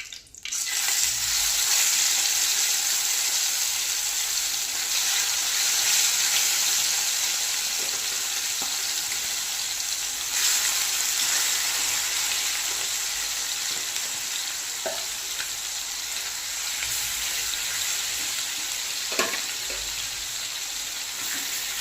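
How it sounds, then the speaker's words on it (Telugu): Marinated chicken frying in hot oil with curry leaves, a loud steady sizzle running throughout with occasional stirring scrapes and small pops. "సో వన్స్ మన కర్రీ లీవ్స్ కొంచెం వేగిన తర్వాత మనం half an hour back marinate చేసుకున్న చికెన్ వేసేస్తాం అందులో"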